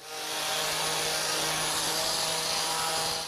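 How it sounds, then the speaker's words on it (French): Continuous abrasive sanding on a wooden chair seat, a steady broadband rasp that swells in and holds at an even, close, moderately loud level throughout. "Ensuite, nous ponçons l'assise."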